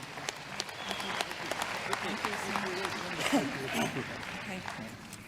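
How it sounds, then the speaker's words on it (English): Scattered applause from a general assembly audience, moderate and somewhat distant, with voices murmuring underneath. "So give them an applause."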